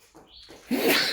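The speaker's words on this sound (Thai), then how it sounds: "จามจาม" A single sharp human sneeze bursts out loudly after a brief inhaled buildup, close to the microphone, in a Thai audio equipment shop.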